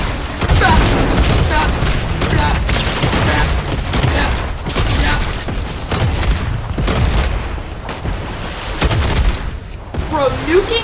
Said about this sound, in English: There is a lot of shooting